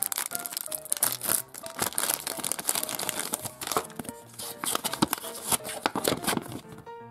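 Close, continuous crinkling and crackling of thin plastic, with sharp tearing rustles throughout, as if a packet is being torn open and handled.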